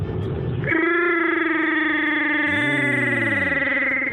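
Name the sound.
voice imitating Chewbacca roar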